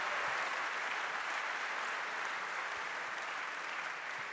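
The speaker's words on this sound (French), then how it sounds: "On peut l'applaudir." Audience applause at a French business conference, an even, continuous patter of clapping heard from a distance at moderate level throughout.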